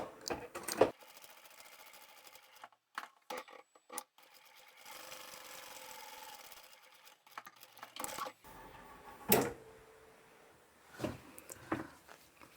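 A sewing machine back stitching the opening of a reversible sling bag, short bursts of stitching separated by pauses and small handling clicks, close and moderately loud with no talk.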